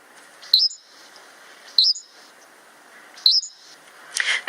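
A bird sings at full speed, three short bright chirping phrases spaced evenly over soft background hiss, with a brief burst at the end.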